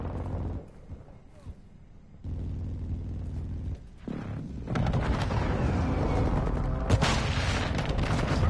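Precision airstrike explosions in a PS4 military game rumble in heavy booming waves, quieter at first, then erupting into a loud, sustained barrage of blasts and gunfire over the last few seconds.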